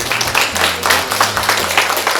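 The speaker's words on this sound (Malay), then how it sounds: "kita ucap tahniahlah kepada Datuk Suhariman, kita bagi tepukan." Steady crowd applause, a dense wash of clapping that holds for a couple of seconds at moderate loudness, with a low hum underneath.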